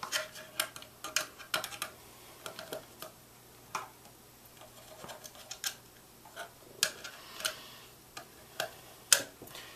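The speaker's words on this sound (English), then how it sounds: "I'll tighten those wood screws in last" Wood screws driven into a wooden base for a servo build, a faint series of small ticking clicks and creaks spaced irregularly, close and quiet with no talk.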